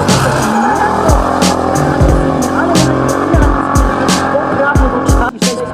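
Drift car with a 5.0-litre AMG engine of about 550 horsepower at a drift event in Toruń, loud continuous engine roar with repeated tire squeal and skidding, close and sustained.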